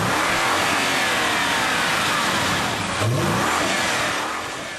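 A V8 bi-turbo station wagon engine, downsized from ten cylinders, accelerates loudly and close by with a rising revving note, then eases off toward the end.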